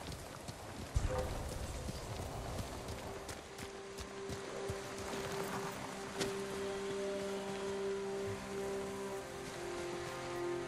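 Horse hooves clip-clop at a steady pace in the video game Ghost of Tsushima, set against a constant rain-like wash and a low droning tone.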